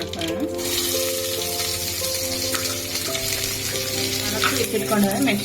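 Chopped onions with mustard seeds frying in oil and ghee, a steady close sizzle with some stirring and faint rattle, while a voice and some tonal background sound sit over it.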